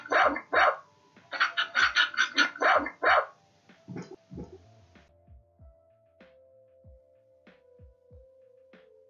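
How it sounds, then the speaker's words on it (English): A dog barks in a quick run of about a dozen sharp, close barks, then falls quiet, leaving a faint hum and a few soft taps. "Dogs bark."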